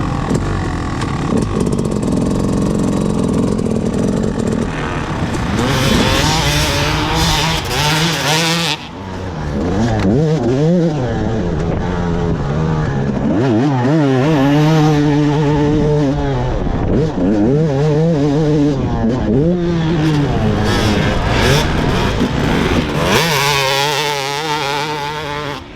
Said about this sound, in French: Donc bon, on fait de la moto.